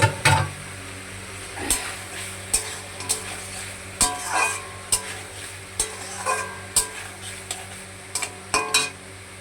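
Potatoes and paneer tossed into a pan of lightly spiced gravy for a low-oil vegetarian curry, frying with a steady sizzle while a spatula scrapes and clinks against the pan in repeated stirring strokes, close and clear with no talking.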